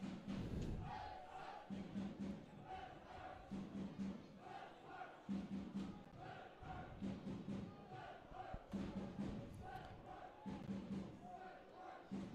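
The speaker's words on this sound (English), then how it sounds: "So fair play to the crowd here, still getting behind the team here." Football crowd at a Finn Harps versus Athlone Town match, cheering and chanting behind the home side in steady rhythmic waves with recurring thumps, loud and continuous across the whole stretch.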